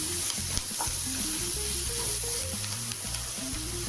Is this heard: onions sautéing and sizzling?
yes